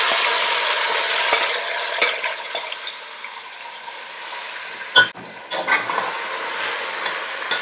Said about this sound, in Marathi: आता याला आपल्याला तोपर्यंत परतायचंय जोपर्यंत याला चांगलं तेल सुटत नाही